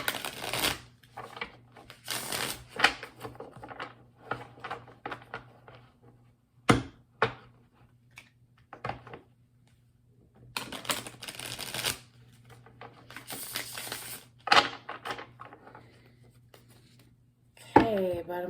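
Light Seer's Tarot cards being shuffled in bursts of crisp riffling and slapping, with pauses between, fairly close and alone over a low steady hum.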